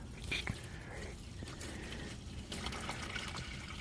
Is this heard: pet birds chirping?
no